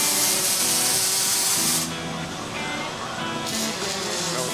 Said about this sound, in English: The same thing we just looked at underneath that Grech motorhome being welded up on the robot right now.